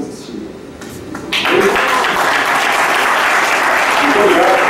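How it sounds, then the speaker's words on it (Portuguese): Loud, sustained audience applause fills a hall during a talk, jumping up after a quieter start and holding steady to the end, with a speaker's voice faintly mixed in. "Mais palmas para você."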